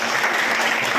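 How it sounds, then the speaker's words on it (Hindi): Schoolchildren clapping together at a traffic-safety awareness session at a school, a loud, dense burst of applause filling the whole moment without talk. "बहुत अच्छा, आपके लिए जोरदार तालियां"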